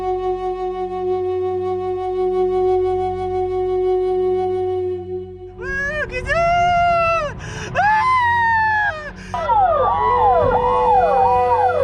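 An ambulance siren wails loudly after a mine accident near Udaipur, sweeping up and down in rapid cycles after a steady droning tone, with cries mixed in.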